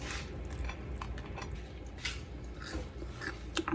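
Crisp bites and chewing on air-fried keto fried chicken, a run of close, quiet crunches and mouth sounds with scattered sharper snaps, growing a little louder toward the end.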